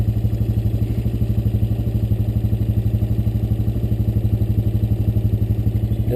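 A Honda Recon ES four-wheeler ATV engine thrums with a rapid, even, pulsing beat while riding slowly along a trail, loud and close. There is no talk.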